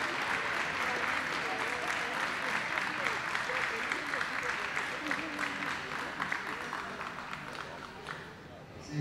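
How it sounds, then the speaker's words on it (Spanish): Sustained applause from spectators at a youth-class dog show final as the competing dogs stand in a semicircle, steady dense clapping filling the hall at moderate distance with faint crowd murmur beneath, continuing without a break throughout. "Con un aplauso final para los ejemplares participantes de la final de exposición Jóvenes"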